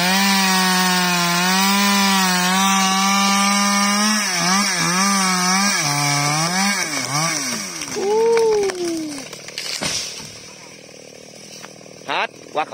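Chainsaw felling a golden wattle tree, the engine droning loudly and steadily, then revving up and down as it bites into the trunk, followed by cracking as the tree drops; a voice speaks briefly over it.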